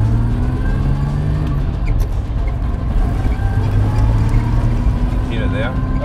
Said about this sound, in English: the whine that you hear from when it starts coming up to speed is the racing gears that it has